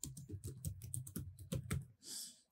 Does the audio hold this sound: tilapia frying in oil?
no